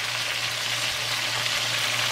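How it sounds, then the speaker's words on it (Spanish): A steady, dense sizzle of chicken frying in a hot pan, continuous and fairly close, with no talking. "Aquí estamos friendo ya el pollito."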